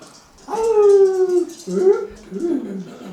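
A person imitates a wolf howl with a long, rising-then-falling vocal wail, followed by two shorter howling calls, loud and close with no other sounds.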